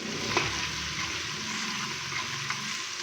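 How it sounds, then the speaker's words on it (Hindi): Ginger garlic paste fries with onions in a pot for a taro and beef curry, giving a continuous close sizzle with faint stirring and no talking. "अदरक और लहसुन के पेस्ट को हल्का सा फ्राई करने के बाद अभी हम इसके अंदर बीफ डाल देंगे"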